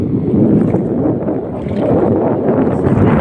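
Strong wind roars across the microphone in a constant, heavy rumble, with no other distinct sounds standing out.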